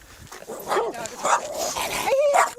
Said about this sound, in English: Get that fucking dog away from me.